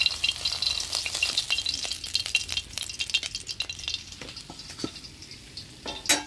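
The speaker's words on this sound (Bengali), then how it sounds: "সবগুলো মাছ ভাজিয়ে নিলাম, এবার তুলে নিই।" Pabda fish sizzle and crackle in hot oil, a steady bright fry broken by the scrape and clatter of a utensil lifting the pieces out, fading slightly near the end.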